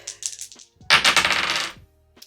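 Dice tumble and clatter across a hard surface during a cash-stuffing savings challenge game, a loud rattling burst of about a second and a half after a few quieter handling clicks, with no talking.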